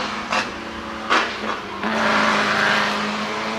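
A Volkswagen Beetle racing past on the Goodwood course in a timed shootout, its engine note rising and falling with brief throttle bursts, then a sustained loud roar as it passes close by.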